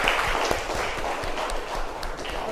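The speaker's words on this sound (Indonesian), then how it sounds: "Ya, tepuk tangan untuk Askal Karim." A classroom of fourth-grade pupils clapping steadily together, a dense, even patter of many small hands that continues without a break from start to finish.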